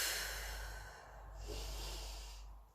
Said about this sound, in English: Exhale as much as you can.